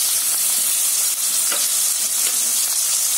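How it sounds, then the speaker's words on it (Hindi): Vegetables being stir-fried in a pan for veg noodles, with cabbage added after onion and chilli, hiss and sizzle steadily and loudly up close, broken by a few brief scrapes of stirring, with no talk. "तो प्याज और अब सारी सब्जियां हम डालेंगे।"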